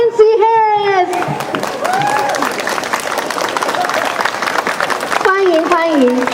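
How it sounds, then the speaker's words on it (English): A crowd at a Taiwanese food festival applauds through the middle of the passage, a dense sustained patter of clapping bracketed by an amplified announcer's voice at the start and end. "The big applause, big applause."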